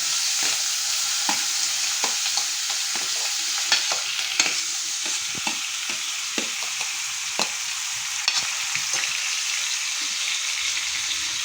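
Onions fry in hot oil for an Andhra-style dry fish and brinjal curry, a constant close sizzle broken by frequent sharp scraping taps of a spatula stirring against the pan, with no voices.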